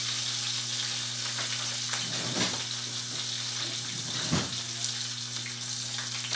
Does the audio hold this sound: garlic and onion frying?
yes